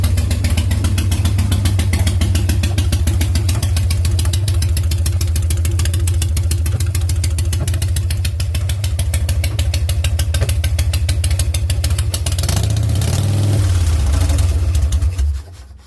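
A turbocharged Lil' T motorbike engine fires up and runs steadily at a loud, close idle with a dense rapid pulse, then stumbles and dies near the end.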